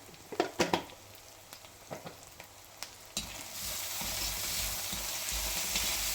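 Ice apple peels go into a pan with turmeric, first a few sharp clatters and taps, then a sudden loud sizzle that swells and holds steady as they fry, close with no speech.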